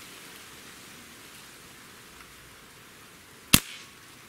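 A single sharp shot from a Beeman Model 1359 .25 caliber bullpup air rifle firing pellets of a little over 20 grains, a loud crack near the end after a faint, hissy quiet stretch.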